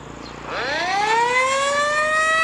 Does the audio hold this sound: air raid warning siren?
yes